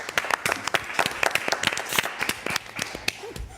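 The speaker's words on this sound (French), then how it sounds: "Allez, on vous applaudit." An audience applauds television studio guests, animal shelter volunteers, with a burst of brisk, fairly close clapping that runs steadily and then thins out toward the end.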